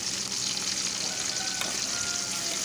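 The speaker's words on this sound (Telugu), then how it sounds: "అదే ఆయిల్లో మనం ఉల్లిపాయ, పచ్చిమిరకాయ అన్నది వేయించుకుందామండి." Chopped onions and green chillies sizzling in hot oil in a pan, a steady, bright crackling fry that stays loud and even, with no voices over it.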